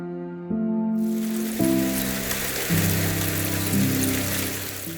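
Heavy spring rain pours down steadily, a dense continuous hiss of drops, with a low tonal hum in the background throughout.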